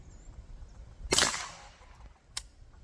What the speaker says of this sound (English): Do a shot through it without my hearing protection. I just want to see what it sounds like.